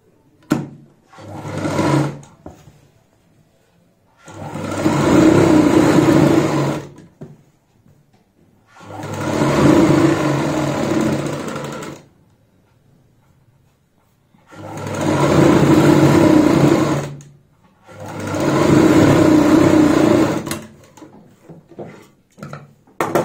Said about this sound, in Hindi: यहाँ पे इंटरलॉक मारने के बाद हम सीधी साइड ऊपर से सिलाई लगा देंगे